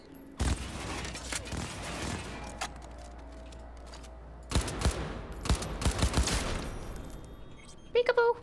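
Enemy gunfire in Cyberpunk 2077 rattles out in loud, rapid automatic bursts, two long volleys separated by a quiet gap and then a brief final flurry of shots.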